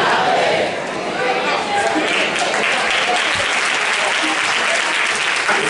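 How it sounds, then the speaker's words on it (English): A church congregation bursts into loud, dense applause for its young people, mixed with cheering and shouts from the crowd, sustained and close throughout. "We applaud our young people."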